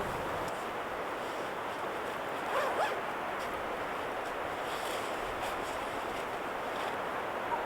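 A zipper is pulled up on warm clothing outdoors during freezing winter camping in the New Zealand mountains, one short, close rasp over a steady rush of wind.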